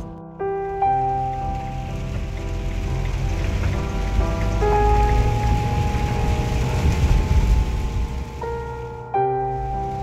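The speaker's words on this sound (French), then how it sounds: "il pleut encore. Il pleut toujours." Steady rain falls on a surface during a drive along Portuguese roads, a continuous broadband patter heard alongside sustained musical tones, with no talking.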